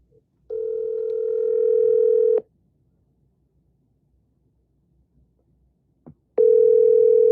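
Telephone dialing and ringing on an outgoing call: two long steady ring tones, each about two seconds, separated by a silent gap, loud and clean with no talking.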